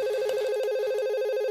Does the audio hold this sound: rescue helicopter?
no